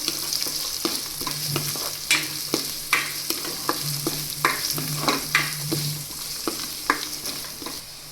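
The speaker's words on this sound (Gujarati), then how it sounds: "અને એક આપણે ડુંગળી લઈ લીધી છે તેને એડ કરી દઈશું હવે આ બધી વસ્તુને આપણે ચડવા દઈશું" Onion sizzles in oil in a pan for upma, with a steady frying hiss broken by repeated clinks and scrapes of a spoon stirring, close and clear with no talking.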